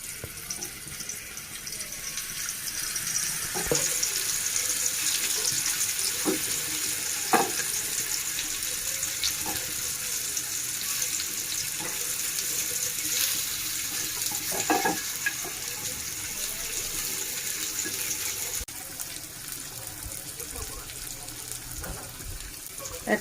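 Spiced pumpkin pieces, seasoned with salt and ginger-garlic paste, fry in hot oil with a steady broadband sizzle, punctuated by occasional utensil clinks and stirring sounds; no talking.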